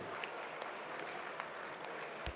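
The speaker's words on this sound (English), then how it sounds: "Please give them a big round of applause." Big round of applause from the audience at a Rotary district installation ceremony, a dense, sustained wash of clapping from a large crowd, heard from some distance in a reverberant hall.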